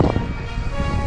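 Strong wind buffets the microphone aboard a sailboat under way between Subic Bay and Cebu, a loud continuous rushing roar with possible water wash beneath, no voices.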